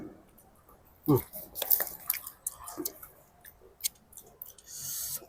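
Crunchy northern Thai buffalo skin salad being chewed up close, with irregular crisp crunches and squishy bites, one sharp burst near the start and more scattered crunches after, alongside faint vocal sounds.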